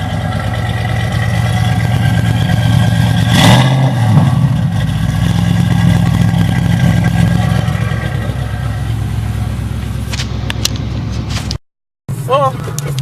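An off-road vehicle engine with a newly fitted exhaust revs loudly and continuously with a deep bellowing tone, holding high then dropping, with a short cutout near the end.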